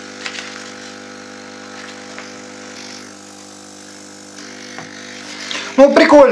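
A BOYU CJY-7500 air pump for a smoke generator runs with a faint, steady electrical hum, light handling noises, a brief louder clatter at the very end and some talking.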